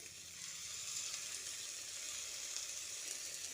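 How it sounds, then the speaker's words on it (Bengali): Eggplant and egg frying in a pan give off a faint, steady hiss as a little water is sprinkled over by hand, soft and close with no talk. "এবার অল্প একটু জল হাতের সাহায্যে এভাবে ছিটিয়ে দিচ্ছি"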